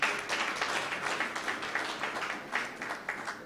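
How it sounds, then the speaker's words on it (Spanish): Congregation applauding during a church service, a dense spread of handclaps that swells in waves and stays fairly even throughout, with no voices over it. "Un aplauso al Señor."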